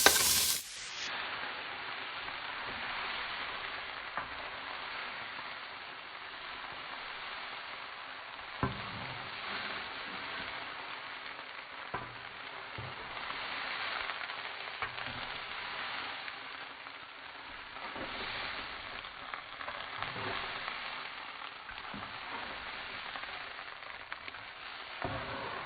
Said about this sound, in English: Add washed dal and rice. Stir well. Stir for 1 minute.